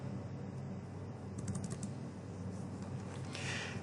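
Quiet typing on a computer keyboard, a short run of soft key taps in the middle and a few more near the end, over a faint steady background hum.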